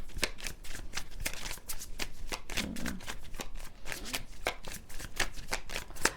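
Tarot cards shuffled by hand close up, a steady run of crisp riffling flutters repeating over several seconds with no talk.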